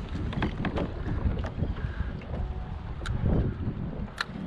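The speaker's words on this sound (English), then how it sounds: "It's gotten pretty windy out here and rough." Strong wind blows across rough open water around a fishing kayak off Florida, buffeting the microphone with a constant low rumble and occasional gusty bursts, with no talking.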